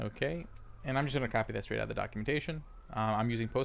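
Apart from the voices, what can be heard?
No everyday noise stands out behind the speech.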